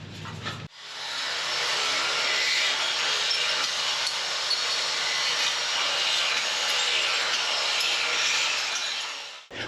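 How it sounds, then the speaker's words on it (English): Sheet metal being trimmed for a street stock car's fan shroud, a steady harsh rasping cut running nearly continuously for about nine seconds, loud and close with no talk. "I'm gonna trim this back to just wide enough on this outside to like get a rivet through it"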